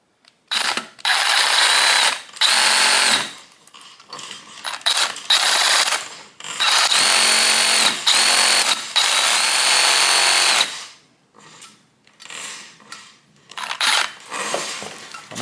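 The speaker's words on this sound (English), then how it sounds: "I'm just gonna use my little hacksaw here and just cut that bad boy off." A small hacksaw cuts through a steel brake line on a 1973 Impala, giving repeated bursts of close, rasping strokes separated by short pauses.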